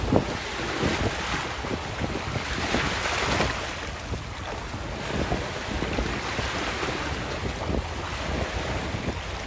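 Strong waves wash continuously along the Manila Bay shore, a loud, steady surf roar mixed with heavy wind buffeting the microphone, with no voices.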